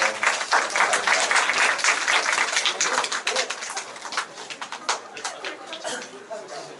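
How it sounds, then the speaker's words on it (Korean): A Saturday church group meeting breaks into encouraging applause. The crisp clapping is dense and steady, then loosens into sparser claps as it dies away. "우리 서로 돌탕들에게 격려하며 박수 한번 합시다"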